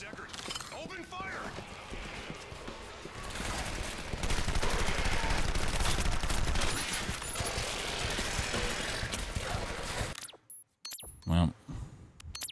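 Rapid video game gunfire rattles in dense bursts of shots and machine-gun fire, with voices heard over the shooting before it cuts off into near silence with a few scattered sounds.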